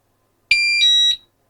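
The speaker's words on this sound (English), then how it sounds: "one bleep, alarm set" A Pyronix Enforcer alarm gives one short electronic bleep as it is set, a clean tone of under a second after silence.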